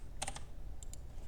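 A few quick keystrokes on a computer keyboard, a tight cluster of clicks followed by two lighter taps, faint against a quiet room hum.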